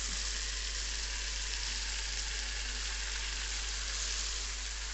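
Fresh fenugreek (methi) leaves sizzle in a hot pan, a steady, even frying hiss that holds at a moderate level with no talking.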